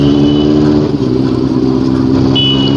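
A motorcycle engine with a loud exhaust drones steadily and close, a continuous low rumble with slight fluctuations in revs, without speech.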